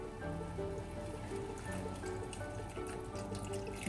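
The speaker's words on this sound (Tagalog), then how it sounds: "dagdagan natin ng konting tubig" Water trickles and splashes steadily into a pan of pancit canton with soy sauce, a soft continuous liquid pour with faint kitchen hum beneath.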